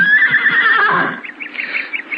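Horses neigh in a radio-style audio drama: one long, bright whinny fades into a series of shorter, quavering nickers, loud and close with no voices over them.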